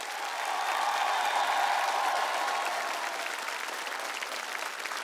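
A studio audience at a televised singing competition applauds steadily, a dense, even wash of clapping that stays loud for the full stretch with only a slight easing toward the end.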